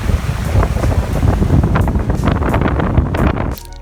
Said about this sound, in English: it was a very windy day